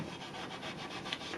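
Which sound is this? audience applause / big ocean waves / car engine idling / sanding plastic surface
sanding plastic surface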